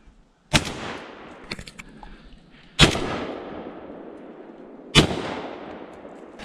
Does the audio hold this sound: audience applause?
no